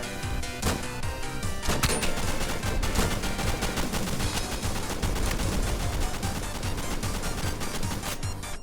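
Heavy, continuous video game gunfire pounds without pause, sustained automatic bursts and sharp shots stacking densely and loudly throughout.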